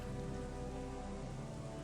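Steady rain falls at night in the game The Chronicles of Myrtana: Archolos, a dense, even hiss of drops on surfaces holding constant throughout with no voices.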